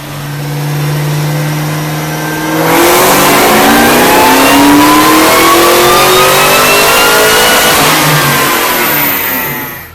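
On a dyno, a car fitted with a KB Cobra supercharger and a JLT next-generation 12-inch intake starts at a steady idle, then revs hard and climbs in pitch for several seconds, very loud and close, before easing off.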